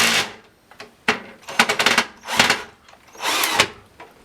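A power drill drives screws into a new shelf built for model locomotives and carriages, giving several short, close whirring bursts of varying length with brief pauses between them.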